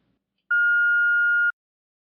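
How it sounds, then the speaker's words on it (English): A voicemail beep sounds as a single clean electronic tone lasting about one second, loud and alone against silence. "please leave a message after the beep"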